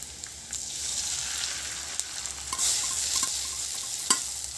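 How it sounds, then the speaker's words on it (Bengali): Beaten egg poured over spices frying in a pan, giving a steady soft sizzle with light stirring scrapes and a few sharper ticks throughout, close and alone without talk. "ডিমটাকে দিয়ে আমি এবারে মশলার সঙ্গে ভাজা ভাজা করে নেব।"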